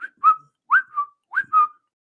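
A voice mimics a blown whistle with three rising two-part whistled calls, evenly spaced and sharp, alone against silence.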